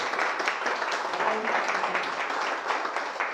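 Church congregation clapping during a Spanish-language sermon, a fairly even, moderate patter of applause from the gathered crowd lasting several seconds.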